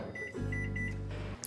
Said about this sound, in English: And that goes in the microwave on high, 3 minutes, and these will be ready to go into the tacos.